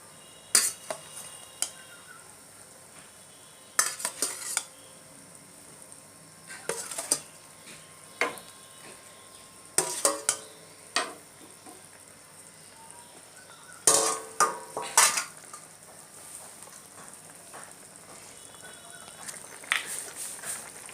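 Pre-fried pointed gourd (potol) is stirred into a pan of egg dorma gravy: intermittent scraping and clinking spoon strokes every few seconds over a faint low sizzle, fairly close.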